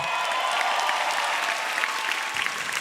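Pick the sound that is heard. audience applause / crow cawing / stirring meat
audience applause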